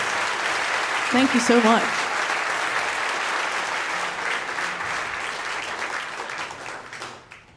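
Radio show concert audience applauding, a steady roar of clapping that fades toward the end, with a brief spoken thank-you over it.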